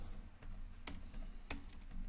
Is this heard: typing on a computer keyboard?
yes